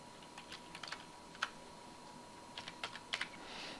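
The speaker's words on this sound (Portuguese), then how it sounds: "é fácil fazer a digitação usando a tecla Tab e Enter" Soft, scattered keystrokes on a computer keyboard, including Tab and Enter presses while entering spreadsheet data, come as isolated clicks and short bursts over quiet room hiss.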